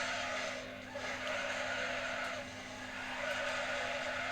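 Car tyres squeal and skid through a drift in Need for Speed Underground 2, with a steady engine hum underneath and the screech rising and easing over a few seconds.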